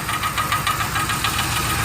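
A loose piece of catalytic converter rattles inside the exhaust of a 2003 Ford Explorer, making a steady, fast metallic ticking over the continuous drone of the running engine, close and fairly loud.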